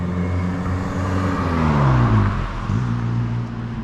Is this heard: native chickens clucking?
no